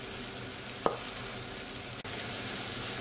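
Zucchini fritters frying in a pan give a steady, dense sizzle throughout, with one brief sharp crackle near the start and a momentary dip before the frying noise resumes.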